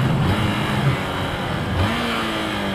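A new motorcycle pulls away in first gear, its engine note climbing in pitch, dipping at a shift, then rising again, loud and close with no voices.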